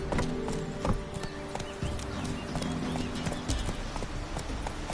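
The horse Roach galloping in The Witcher 3: Wild Hunt, rapid rhythmic hoofbeats close and loud, continuous throughout with game ambience underneath.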